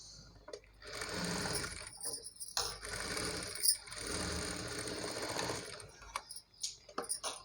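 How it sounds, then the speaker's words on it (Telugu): A sewing machine stitches saree fabric into a long frock in several running bursts, whirring and clattering up close with short pauses between runs and a few ratcheting clicks near the end. "నీట్గా అనుకుంటూ పైనుండి అయితే ఒకటి స్టిచ్ వేసేసుకొని తర్వాత మనం జాయింటింగ్ చేసేసుకుందాం"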